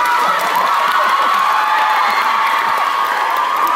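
Concert audience at the Beautiful Day show cheering and shouting together, a dense, steady roar of many voices filling the space without a break.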